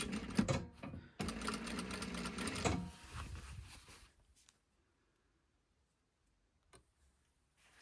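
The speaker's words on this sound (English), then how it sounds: "Just doing a little top stitching around that folded edge." A sewing machine runs in a steady mechanical whir for about three seconds, pausing briefly, while top stitching around the folded edge of a sleeve cuff, then falls quiet with only faint handling clicks.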